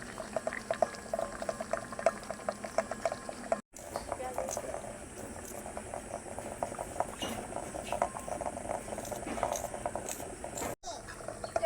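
Eggs boil in a pot of water with a continuous bubbling simmer, with faint clicks and kitchen handling, while someone speaks over it, then brief cuts interrupt.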